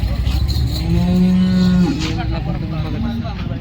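One cow gives a long, loud, close moo over a busy background of engine noise and crowd murmur at the outdoor cattle market in Modnimb, Solapur, India.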